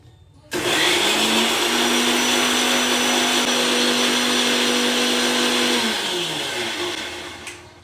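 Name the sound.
mixer grinder blending batter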